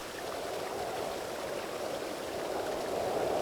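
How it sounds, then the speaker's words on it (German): Flowing water in the Satinavs Ketten game near a blood-red waterfall, a steady faint rushing wash that stays even throughout. "Das fließende Wasser, wie komme ich da nicht?"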